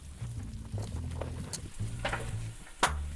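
Vegetables with garlic and onion sauteing in a pan, a steady close sizzle with occasional stirring scrapes and one sharper knock near the end, no voices.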